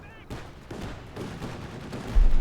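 Mortar fire in the video game Company of Heroes 2, with several muffled booming impacts spaced a moment apart and a heavier blast landing near the end.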